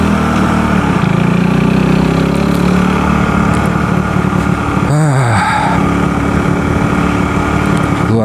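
A self-assembled motorcycle's engine while riding at night on a mountain road, a loud, steady drone with wind rush and a brief rev change midway, continuous and close.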